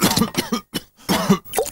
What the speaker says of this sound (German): Husten. Der schon wieder.